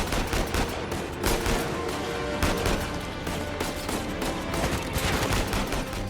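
Heavy gunfire from the video game Uncharted 4 crackles in rapid, dense bursts of overlapping shots, loud and continuous throughout with no speech.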